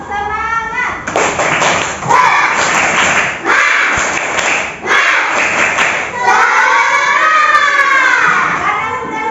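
Schoolchildren at an elementary school clap a rhythmic spirit clap in bursts of sharp, loud claps, mixed with their chanting voices and a teacher's voice, the group close and echoing in an indoor room.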